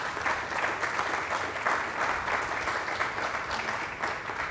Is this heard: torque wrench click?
no